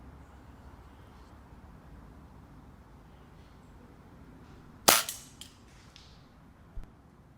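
A single sharp crack from a vintage Britannia bullpup spring air rifle with a heavy barrel, loud and close, rising out of quiet background hiss, followed by a brief metallic clatter and a small knock later.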